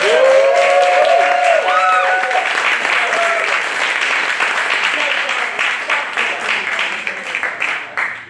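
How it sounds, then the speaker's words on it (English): Loud audience applause and crowd noise at a comedy roast, with a voice speaking over the start before dense clapping continues and slowly tapers toward the end. "Big round of applause for me"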